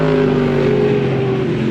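A 1979 VB Holden Commodore with a 355 engine and a Tex Racing four-speed idles and rumbles close by at a car club event, a loud, steady, low engine drone with a slight dip in pitch.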